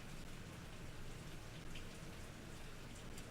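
Rain falling outside, a steady, even hiss of drops on surfaces, quiet and continuous with no voices.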